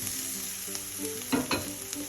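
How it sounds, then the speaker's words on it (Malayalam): Ground coconut paste being stirred into cooked spinach in a hot pan, a soft continuous sizzle with a few louder scraping stirs near the end. "അരപ്പിൻ്റെ പച്ചമണം മാറുന്നവരെ നമുക്കൊന്ന് ഇളക്കി കൊടുക്കാം"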